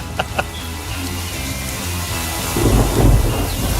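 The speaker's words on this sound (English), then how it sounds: "The indoor rain showers and thunder, awesome, right?" Simulated indoor rain hisses steadily in a tiki bar while a low rumble of thunder builds and swells loudly near the end, with a couple of faint knocks early on.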